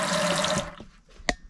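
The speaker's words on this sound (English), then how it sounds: "And a sink with real water." A sink tap runs with a full, hissing rush of water for about half a second, then cuts off, followed by a few soft knocks and one sharp clack, with no talking.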